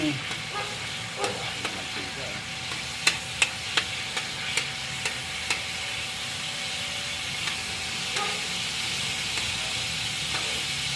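Garlic sizzling and frying in hot cooking oil in a pan, a steady hiss with intermittent sharp crackles and pops, stirring clatter mixed in, and occasional voices faintly in the background.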